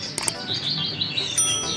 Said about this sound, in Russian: Такая природа, птички поют